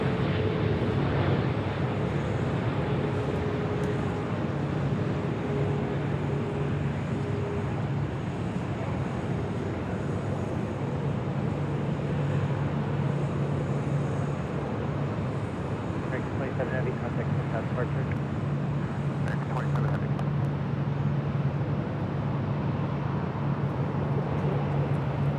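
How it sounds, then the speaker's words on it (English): An American Airlines jet begins its takeoff roll on the south side of Los Angeles International Airport, a steady distant engine roar that holds throughout with faint wind noise. "American 27 started her takeoff roll on the south side"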